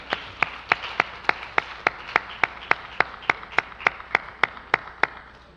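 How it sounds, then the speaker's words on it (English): A round of applause for young award recipients at a school awards ceremony, heard as about twenty sharp, evenly spaced claps close by, like a single pair of hands or a small group clapping steadily. "Let's give these young men a round of applause."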